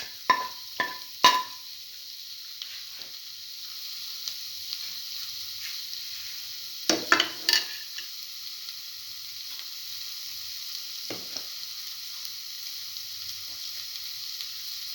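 Spices are stirred into a sizzling cottage cheese and eggplant filling in a pan, giving a faint steady sizzle broken by a few sharp spoon scrapes and taps against the pan.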